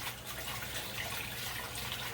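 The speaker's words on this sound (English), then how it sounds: "Wash my hands again." Hands are washed under a running kitchen tap, a steady faint stream of water splashing into a sink for a couple of seconds with no talking.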